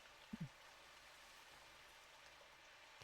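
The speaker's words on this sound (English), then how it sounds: "I've been listening to the rain pummel the ground for hours now." Rain pummels the ground during a typhoon in the visual novel game Robotics;Notes Elite, a faint steady hiss of falling drops with a couple of soft low thumps near the start.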